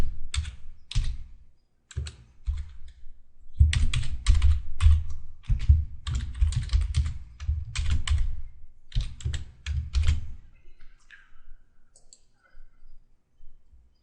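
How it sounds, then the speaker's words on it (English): Keys on a computer keyboard clatter in quick uneven bursts of typing, close and clear, with short pauses between runs and a few isolated clicks near the end. "Let's type in some basic HTML now."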